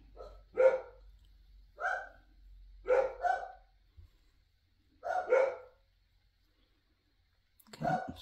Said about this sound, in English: has been non-stop barking all day today